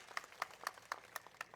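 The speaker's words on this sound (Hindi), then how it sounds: "तालियों से स्वागत करें भाई" Sparse clapping greets new members joining the Congress party at a village political gathering in Haryana: a handful of faint, evenly spaced claps heard from a distance.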